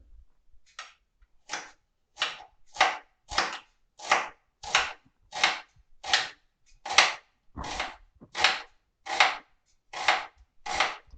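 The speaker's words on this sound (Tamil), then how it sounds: "இன்னொரு வெங்காயமும் காமிக்கிறேன் எப்படி கட் பண்ணுறதுன்னு" A knife chops an onion on a board, about fourteen sharp, close, evenly spaced strokes in a steady rhythm, with near silence between them and no talking.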